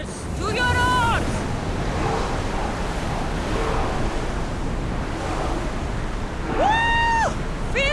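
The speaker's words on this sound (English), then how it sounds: "Feel that wind!" Wind and waves rushing past a ship under sail in the video game Assassin's Creed Odyssey, a steady broadband roar of surf and gusting air, with voices calling out briefly near the start and end.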